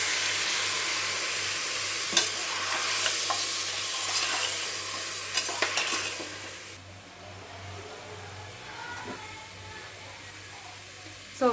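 Masala for a rustic-style egg and chicken curry stirs and fries in a pan, a steady sizzle with scraping clatter from the spoon and occasional sharper knocks, fading quieter halfway through.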